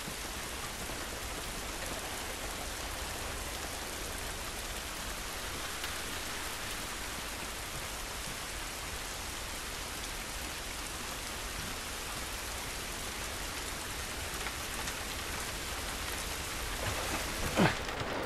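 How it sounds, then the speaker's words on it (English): Steady rain pours outdoors in The Last of Us Remastered, a dense, even hiss of drops on surfaces that holds at the same level throughout, with a couple of brief louder knocks near the end and no voices. "This rain ain't gonna do us any good."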